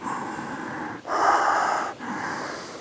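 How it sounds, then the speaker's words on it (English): Deep, drawn-out breaths during a yoga stretch: a long inhale, a pause, then another audible breath, close and breathy with no speech. "Inhale."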